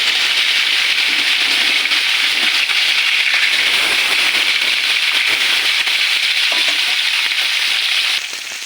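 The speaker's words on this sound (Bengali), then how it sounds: "মাছ লাল লাল করে ভাজা হয়ে গিয়েছে," Fish pieces fry in hot oil with a loud, steady sizzle and crackle that runs unbroken for the whole stretch, dropping slightly at the very end, with no voices over it.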